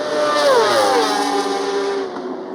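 Superbike racing motorcycles at Road America brake into Canada corner during a MotoAmerica Superbike race, a loud close pack of engines with falling and shifting pitch as they decelerate, alone without voices.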